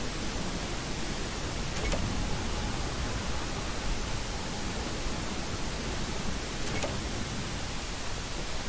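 The Rush entity in the Roblox game Doors rushing through, a loud, continuous roaring hiss of noise that holds steady throughout with faint flickering clicks.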